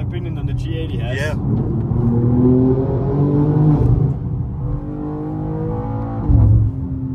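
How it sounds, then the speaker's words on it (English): A BMW M2's exhaust drones and rises in pitch as the car accelerates through the city, with shifting engine tones and a valve-opened burble, heard loud and close inside the cabin while someone talks over it. "The exhaust sounds amazing, and yeah, the valves seem to work really, really great."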